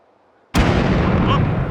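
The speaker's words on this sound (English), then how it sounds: "We've got some beautiful new explosion sounds for these, and just some grenade sounds" A grenade blast in the VR shooter H3VR: a sudden loud, close boom erupts from silence and rolls on as a sustained, dense rumble with a faint voice under it.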